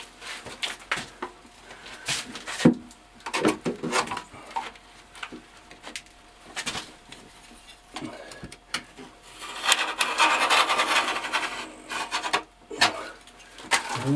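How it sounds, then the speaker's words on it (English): Wallpaper is cut and pressed hard into a corner of a very small room, giving close, irregular scraping, rubbing and crinkling bursts with short pauses between strokes. "Cut it into the corner, take it down quite hard, remove the top bit."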